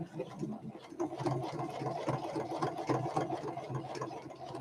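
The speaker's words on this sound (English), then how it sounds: "I guess I could just sew straight across here to the other corner." A sewing machine stitches across fabric with a fast, even mechanical whir that runs steadily and fairly quietly throughout.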